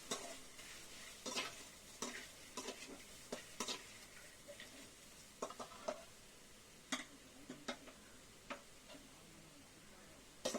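Bitter gourd being sautéed in a pan for a tamarind curry, with a steady soft sizzle and repeated stirring clicks and scrapes of a spoon against the pan, fairly quiet and without talk.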